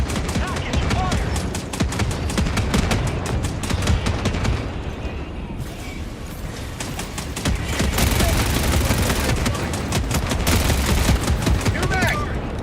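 Rapid automatic gunfire from a deployed sentry turret in Helldivers 2, sustained bursts of loud, dense shots with a brief lull in the middle, chaotic battle noise throughout.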